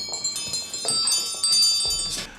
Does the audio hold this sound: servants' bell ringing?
yes